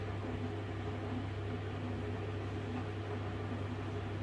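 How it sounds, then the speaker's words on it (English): Electric kettle heating water for baking: a faint, steady hiss with a low hum underneath, constant throughout, heard alone in the background. "What you can hear in the background is I'm boiling the kettle."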